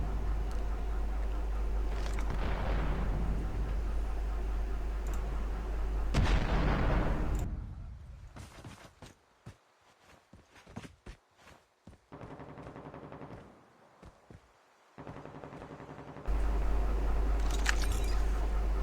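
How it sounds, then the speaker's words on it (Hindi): Gunfire in the mobile shooter Call of Duty Mobile, with bursts of shots and booming blasts under a steady game din, broken by a quieter stretch of scattered sharp cracks. "काफ़ी सारी गोलियों की आवाज़ यहाँ पे मुझे सुनाई दे रही है।"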